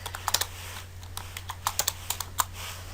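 Quick, irregular keystrokes clatter on a computer keyboard, about a dozen close, crisp clicks in uneven bursts with no voice.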